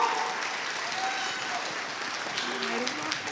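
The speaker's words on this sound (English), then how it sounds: "Give him a round of applause." A conference audience applauds in a dense, steady wash of clapping from a crowd indoors, with cheers and voices mixed through it.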